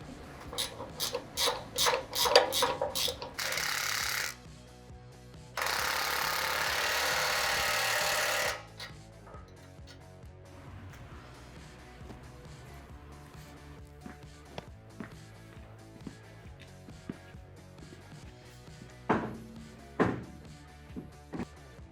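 A nylon lock nut being run onto a carriage bolt on a Chevy Colorado front bumper bracket, heard as close metallic ratcheting and rasping bursts, then quieter scattered taps and clicks of tool handling.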